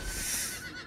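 Horse neighs in the Diablo video game, a single close whinny with shrill high tones lasting under a second, standing alone without talk.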